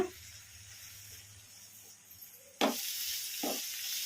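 Grated radish frying in a pan with stirring: quiet at first, then a sudden loud broadband sizzle bursts in partway through, with a second scraping stir moment shortly after, continuing steadily.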